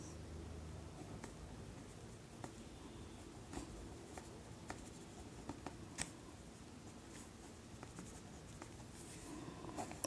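A pen or chalk writes on a board during a maths class, giving faint continuous scratchy strokes with occasional sharper taps and no talking.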